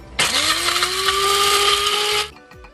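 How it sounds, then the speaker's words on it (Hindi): A kitchen mixer grinder whirs loudly and steadily for about two seconds, pulverising cooked lentils into powder, with the motor's rising whine holding constant before it cuts off abruptly. "मिक्सर में मिक्स कर देंगे"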